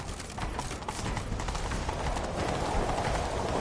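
Horse hooves gallop steadily in The Witcher 3 video game, a dense continuous drumming of fast hoofbeats, loud and close, with no pauses across the stretch.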